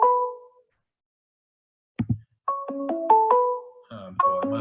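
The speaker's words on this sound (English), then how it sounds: "my phone is going off and it's not going to shut up until I pay attention to it" A mobile phone rings: a short tonal burst, a brief gap, then a repeating melodic ringtone pattern of stepped electronic tones that plays on loudly without speech.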